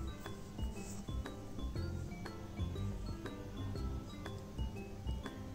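Filling of shredded cabbage for rolls being stirred in a pan, with a steady run of metallic clinks and scrapes from the utensil against the pan, moderately loud and continuous throughout.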